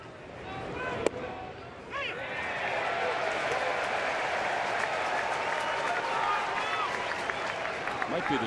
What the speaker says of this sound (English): The crowd's getting a little restless.